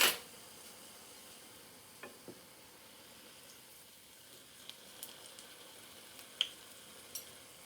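Zlabiya batter fries in very hot oil with a soft, steady sizzle. A few sharp pops and clicks come through now and then, and the whole thing sounds fairly quiet and close.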